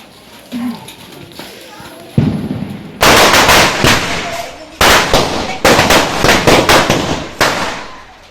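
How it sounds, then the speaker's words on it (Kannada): Firecrackers burst in a loud rapid string of sharp cracks and bangs, close by, after a quieter stretch where a voice talks over soft background noise. "ಯಬ್ಬ ತುಲೆ ಫುಲ್ ಪಟಾಕಿ"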